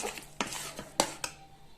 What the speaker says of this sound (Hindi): अब हमने अपनी गैस की फ्लेम को लो मीडियम रख के इसको 5 से 6 मिनट तक इसी तरह भूनना है